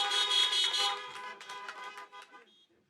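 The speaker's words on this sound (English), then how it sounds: "Can we get a honk honk?" Several car horns honk together at an outdoor 2020 high school graduation ceremony, loud overlapping toots that thin out and fade over a few seconds.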